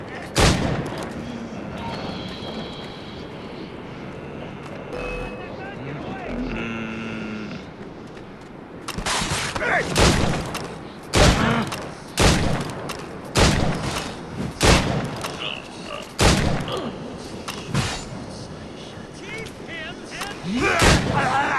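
Ships exchange cannon fire in Assassin's Creed Rogue, a run of sharp, loud booming shots arriving roughly every second or two in the second half, after quieter stretches with shouted voices and sea ambience.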